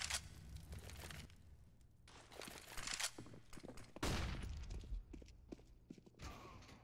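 Gunfire in a Counter-Strike match on the Mirage map, bursts of rapid shots and scattered single cracks mixed with game sounds, fairly loud and close.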